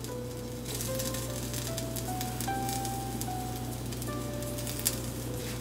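Eggs fry with bell pepper and onion rings in a pan on low heat, giving a steady, moderately soft sizzle with faint crackle throughout, under a low hum and a background melody, with no talk.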